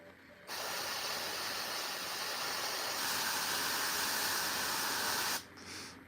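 An airbrush sprays paint onto a Warhammer miniature, a steady close hiss that runs unbroken for about five seconds, then cuts off sharply near the end.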